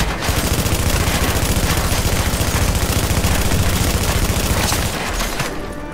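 Sustained machine gun fire in a first-person shooter: a dense, rapid, loud stream of shots with booming low end that runs continuously and then cuts off near the end, with no voices.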